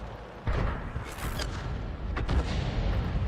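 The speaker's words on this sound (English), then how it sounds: "There was an explosion, but I don't think we hit him there." A dull, muffled boom of an artillery shell exploding in World of Tanks, with an M44 self-propelled artillery gun in play, a rumbling blast sitting under steady low battlefield noise.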